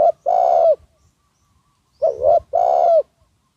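A spotted dove used as a decoy bird coos close and clear: one long coo, a pause, then two more in quick succession, with no other sounds around it.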